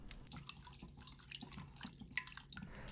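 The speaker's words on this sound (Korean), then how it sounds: "준비한 감자는 깨끗한 물을 부어 흙을 제거해주시고요" Running water splashes and trickles close by, with small drips and clinks as potatoes are rinsed clean of soil.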